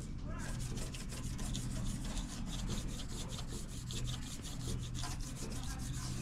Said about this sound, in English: I'll use a little piece of Scotch-Brite. Just kind of finish smoothing everything out.